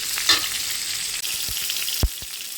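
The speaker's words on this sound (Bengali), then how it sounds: "পটলটা এখনও ভাজা হয়নি পটলটা বেশ ভালো করে আমি আর একটু ভেজে নিই" Pointed gourd (potol) slices frying in oil give a close, continuous sizzle, with a few sharp knocks as a utensil stirs them in the pan.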